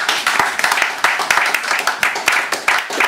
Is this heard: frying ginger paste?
no